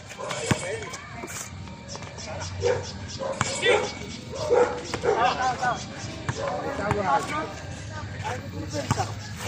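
A person imitates a dog's barks during a basketball game and exercise session, with ball bounces and lively talk all around.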